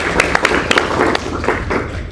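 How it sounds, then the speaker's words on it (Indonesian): A seminar congregation claps for God, a loud, uneven round of hand claps close by with sharp individual slaps over a murmuring room. "Yang setuju berikan tepuk tangan bagi Tuhan."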